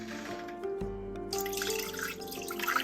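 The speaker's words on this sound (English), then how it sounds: "I'm going to add 2 cups of whole milk." Whole milk poured from a container into a pot on the stove while making green mac and cheese, a steady close liquid splash with trickling and dripping, no talking.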